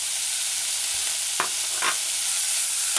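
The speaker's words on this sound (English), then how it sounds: "Stir it in, allow it to saute" Chopped tomatoes sauté in a hot pan for a saltfish and eggplant codfish stew, giving a steady bright sizzle with a few brief scraping stirs of a utensil, close and alone.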